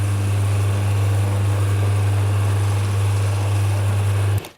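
A wooden infilled pen blank spins on a lathe under a high-speed steel bit, a loud constant low motor hum with a faint scraping cut that stops abruptly at the end.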